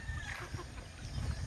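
Soft clucking from chickens sounds over a low, constant rumble, brief and fairly faint, with light scratchy noises in between.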